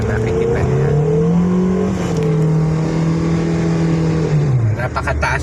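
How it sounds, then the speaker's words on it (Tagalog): A vehicle engine with a worn, slipping clutch revs high and strained, its pitch climbing and holding while the drive barely responds, loud and close with some background noise. "Napakataas ng rev"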